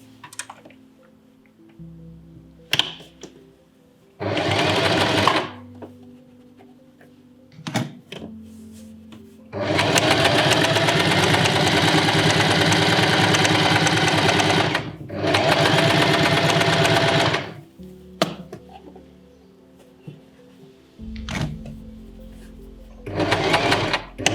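A sewing machine stitches in several bursts, from short spurts to a sustained run of about five seconds, while a pattern is being sewn. Quiet pauses with small clicks separate the bursts, as the needle and presser foot are repositioned.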